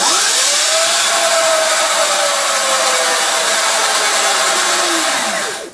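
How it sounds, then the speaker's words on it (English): An electric Sur-Ron motorbike in sport mode accelerates hard under full throttle, its loud motor whine climbing steadily in pitch, then falling away as it backs off at the end. "So I'm gonna go twist the throttle"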